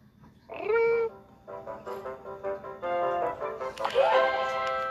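Cat meowing repeatedly and close by, several drawn-out, wavering cries one after another with short gaps between them.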